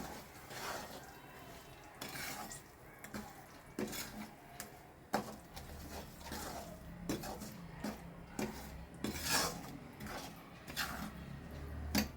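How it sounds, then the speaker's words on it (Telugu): A spice and oil mixture being stirred in a bowl, with repeated clinks and scrapes of a spoon against the sides in an irregular rhythm, close and fairly quiet. "ఈ మిక్సర్ని బాగా కలుపుకోవాలి"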